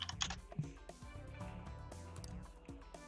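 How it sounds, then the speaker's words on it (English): Typing on a computer keyboard, with rapid, irregular key clicks running continuously under background game music. "Oh damn, you can hear me typing."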